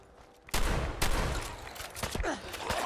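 Enemies open fire in the video game Fallout 4, with sharp bursts of gunshots cracking in quick succession, loud and close, in several overlapping volleys.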